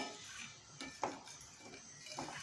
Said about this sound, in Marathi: स्लो गॅसवरती आपल्याला हे ढवळायचं आहे